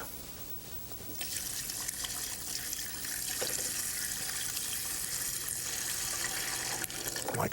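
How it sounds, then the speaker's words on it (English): Milk poured into a pan already holding butter and sugar, a steady splashing liquid rush that starts abruptly after a quiet moment and runs on loud and close, with a final splash near the end. "And we're going to add our milk."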